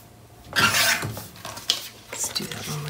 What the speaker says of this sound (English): looks like I need to trim just a little bit off the edge.